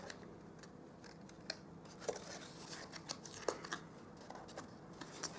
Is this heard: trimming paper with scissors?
yes